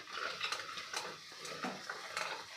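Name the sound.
stirring spice powders in oil in a pan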